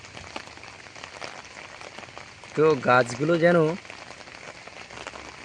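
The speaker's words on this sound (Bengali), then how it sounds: "ঝমঝমিয়ে বৃষ্টি হওয়ার পরে এখন একটু গুঁড়ি গুঁড়ি বৃষ্টি পড়ছে যেটাকে বলে ইলশে গুঁড়ি" Light drizzle after heavy rain falls steadily as a soft, even patter throughout, with someone speaking briefly over it in the middle.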